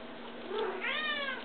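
A cat gives a short, close, clear meow, rising then falling, after a softer preliminary sound.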